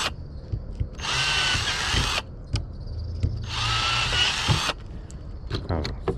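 A power drill boring a hole for a front bumper support on a Redcat Kaiju RC truck, two loud close bursts of whining drilling a couple of seconds each, with clicks and handling noises between them.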